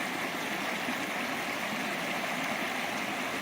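A river on the Superior Hiking Trail rushes steadily with a dense, even broadband wash of flowing water, constant and close, with no voices.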